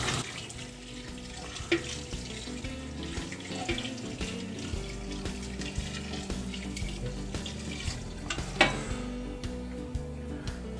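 Boiled water gushes from a vessel into a pot of beef trotters for Sylheti poncha, a steady splashing pour lasting several seconds with occasional clinks, heard close up.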